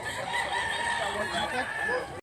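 A rooster crows in one sustained, strained call lasting about two seconds, loud and close, with faint background noise.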